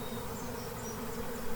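A swarm of honeybees fills the air with a steady, dense buzzing drone, close and continuous, with no voices over it.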